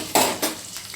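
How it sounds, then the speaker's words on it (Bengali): Salted potato pieces fry in hot oil while a spoon stirs them in the pan, giving two quick scraping sizzles over a low crackle. "সমস্ত কিছু দিয়ে খুব ভালো করে আলুটাকে একটু লালচে করে ভেজে নিতে হবে"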